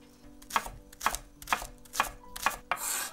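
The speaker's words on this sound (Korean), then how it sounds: "이제 소스에 쓸 파를 다져주겠습니다" A knife mincing a green onion (daepa) on a cutting board makes five crisp, evenly spaced chops, close and clear, with a brief rustle at the end.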